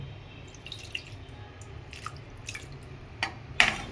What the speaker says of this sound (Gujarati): હજી થોડું પાણી નાખી દઈએ